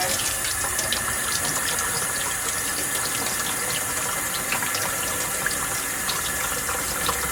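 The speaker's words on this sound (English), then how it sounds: "So I just rinse them under cold water." Steady cold water runs from a tap and splashes into a sink while eggs are rinsed, a constant rushing hiss with small clatters, no speech.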